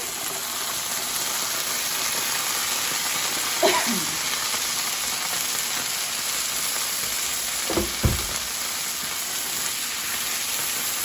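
Diced tomatoes hiss and sizzle in a hot pan for shakshouka, a steady soft frying crackle broken by a couple of brief scraping clatters from the pan.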